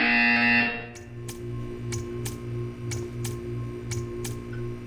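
Buzzer in the Portal 2 video game: after a fading electronic tone, a series of about eight short, sharp buzzes repeats at a regular pace over a low humming background.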